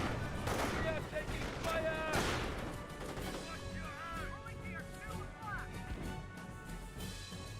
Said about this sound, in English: Mortar emplacement firing away.